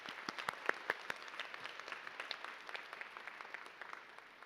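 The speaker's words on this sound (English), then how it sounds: "so let's give them another round of applause" A graduation convocation audience applauds graduates with dense, steady clapping that holds throughout and fades slightly toward the end.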